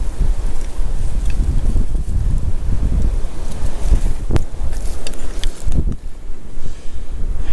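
Wind blowing outdoors at an old farm dump, a strong, steady rumbling gust buffeting the microphone throughout, with a couple of brief knocks.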